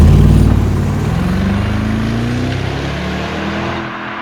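A 2007 Mercedes SLR McLaren Roadster pulls hard under acceleration, its loud engine note rising steadily in pitch as revs climb, then easing slightly toward the end, heard close and continuous with no talking.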